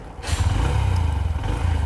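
A Honda SP125 BS6 motorcycle with a single-cylinder air-cooled 125 cc engine pulls away in medium city traffic, its close, loud engine note rising in a throbbing rev as it accelerates.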